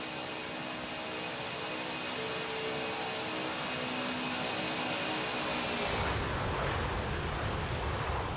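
Boeing 747 Classic engines in the X-Plane 11 flight simulator make a loud, steady broadband roar that runs throughout, thinning abruptly near the end to a lower, rougher rumble.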